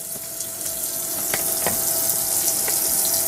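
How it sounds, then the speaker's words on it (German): A submersible water pump running inside a motorhome's fresh-water tank gives a constant hissing, rushing water sound, with a few small clicks and splashes over the steady flow. "Hier hören wir jetzt die Pumpe, wie sie läuft."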